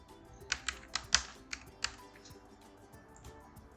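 Python code typed on a computer keyboard, a handful of crisp, irregularly spaced key clicks up close, quiet overall, then fading to lighter taps, no talking.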